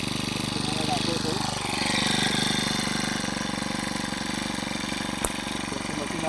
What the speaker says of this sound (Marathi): पहिल्या स्टिकमध्ये मशीन चालू झालेली आहे